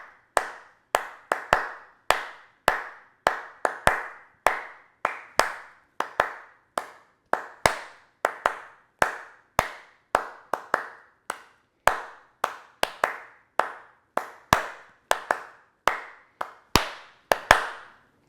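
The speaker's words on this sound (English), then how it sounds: "let's clap out the difference to make sure we can really hear it" Hands clap out a swing rhythm for Lindy Hop dance practice, a steady run of crisp, close claps with short gaps and occasional pushed accents, continuing alone without talk.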